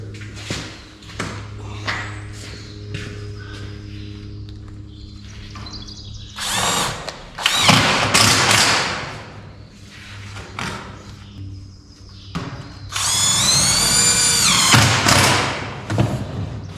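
Power drill driving screws through a metal end panel into boards, heard in several short bursts with bumps and thuds of handling between them, fairly close.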